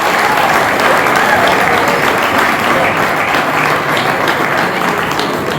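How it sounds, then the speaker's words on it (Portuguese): Sustained applause from a crowd at a Christmas sports dinner in Vizela, 2025, honouring a sports official; dense, steady clapping fills the whole stretch at close range and stays loud throughout, with no pauses. "E por isso uma grande salva de palmas por isso mesmo."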